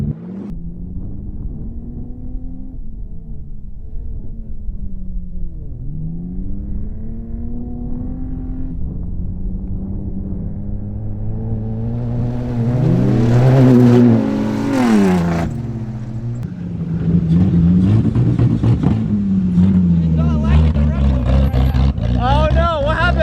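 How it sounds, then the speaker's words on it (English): A Ford Ranger desert truck revs hard into its rev limiter in a series of sweeping climbs, the engine note rising and falling several times, loud and close with wind buffeting and people talking and shouting. "Every time I hit the rev limiter, it bogs out"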